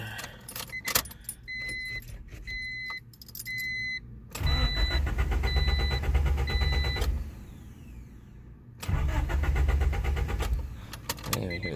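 A 2019 Camaro SS with a fuel pump fault and a wrecked body cranks repeatedly without catching, starter whirring in two long bursts, with dash chimes, jangling keys and clicks between attempts, close up.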